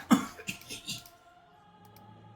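A voice imitates vigorous coughing during a tabletop role-playing session: a few loud, harsh bursts up front, then fading into quieter throat noise and a faint hum.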